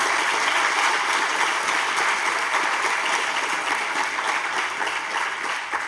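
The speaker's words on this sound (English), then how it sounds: "So first of all, a big round of applause for everybody." A symposium audience applauds steadily, a dense wash of clapping that holds for several seconds and tapers slightly at the end.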